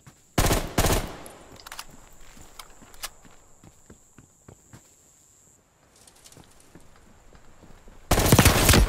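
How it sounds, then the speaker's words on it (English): Short bursts of M16 three-round fire in Call of Duty: Black Ops Cold War, a deathmatch in Angola, loud clusters of shots with quick footsteps and scattered lighter gunfire between them, ending in another heavy burst. "time to use this M16, man. Let me see what this three-round burst is about."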